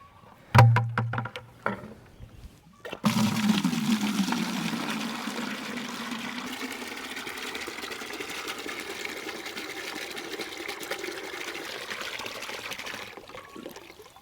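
After a few clunks, water gushes steadily into a bucket, a continuous rushing flow that runs for about ten seconds before stopping.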